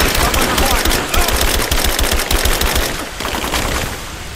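Sustained automatic gunfire in the Rise of the Tomb Raider video game, a rapid, continuous rattle of shots that is loud and close, with faint shouted voices blending into the barrage.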